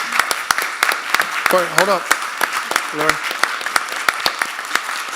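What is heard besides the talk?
audience applause at a school board meeting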